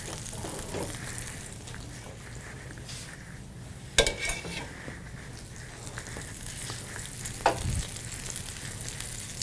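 Skin-on chicken sears in its own fat in a pan, a steady frying sizzle running throughout, broken by a couple of sharp clanks of a utensil against the pan.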